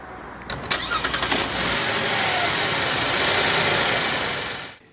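Car engine starting from a key fob, with a rapid series of cranking pulses that catches and settles into a steady, close idle before it cuts off near the end.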